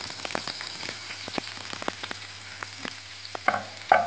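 Chopped onion tipped into hot oil with cumin seeds in a pan, giving sparse crackling pops and spits over a low steady hum, with a couple of louder stirring clatters near the end.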